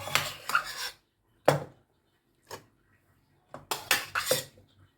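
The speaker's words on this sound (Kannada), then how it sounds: "ಚಿತ್ರಾನ್ನ ಕಲಸಿ ರೆಡಿ ಆದಮೇಲೆ ಅದಕ್ಕೆ ಅನ್ನ ಹಾಕಿ ಕಲಿಸ್ತೀನಿ" Rice being stirred into raw mango chitranna in a pot, coming through as scraping, rubbing bursts of spoon against metal in three separate stretches with short silent gaps, close and fairly loud.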